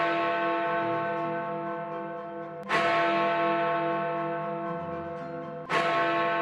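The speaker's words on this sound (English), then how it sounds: "this time we're only ringing 1 bell." Big Ben, the great bell in London's Elizabeth Tower, struck by its hammer: two deep, loud strikes about three seconds apart, each blooming into a long, rich ringing hum that lingers between blows.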